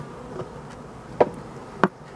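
Faint, soft honeybee buzzing hums in the background at a hive, with a few brief louder buzzes as bees pass close by.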